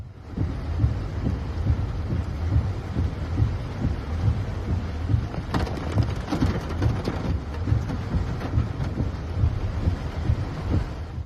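Torrential downpour during New York City flash floods, a constant dense roar of rain with wind buffeting the microphone and a brief louder rumble in the middle, heard close and steady with no talking.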